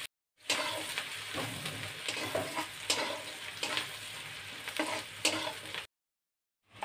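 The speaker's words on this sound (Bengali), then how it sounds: "এখন পেঁয়াজগুলো আমি ভালোভাবে লাল লাল করে ভেজে নেব" Chopped onions frying in hot oil with bay leaves and whole garam masala, a steady close sizzle broken by periodic scraping stirs, starting and stopping abruptly, with no voices.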